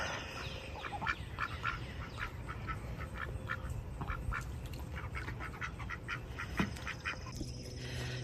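Ducks quack repeatedly in short, irregular bursts at moderate distance, with a steady background hum underneath.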